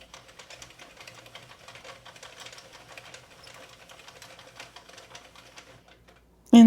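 A Sentro or Addi knitting machine clatters steadily with quick, light ticking as rows of yarn are cranked through, faint and continuous before a sudden loud thump at the very end.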